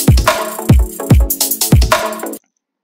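A programmed drum pattern from Splice Beat Maker pounds out deep kick hits layered with snappy percussion and hi-hats in a steady, punchy groove for just over two seconds, then stops abruptly.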